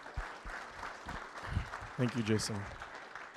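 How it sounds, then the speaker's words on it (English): An audience at an evening father-son Catholic men's event gives a round of applause, a soft, fairly distant patter of clapping running steadily beneath someone speaking over a microphone. "We can give them a round of applause."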